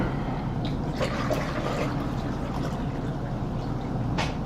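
Liquid pours into a Mr. Beer fermenter for an Oktoberfest Lager refill, a continuous close splashing rush of filling that holds steady throughout.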